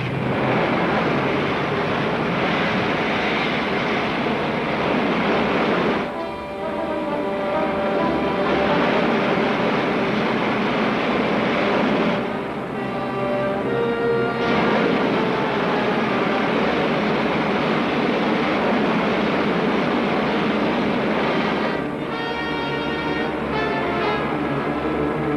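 Spaceship main jets firing in an old science-fiction serial, a loud continuous roaring rush with steady broadband rumble that holds across the whole stretch, dipping briefly in two spots with faint tonal whines.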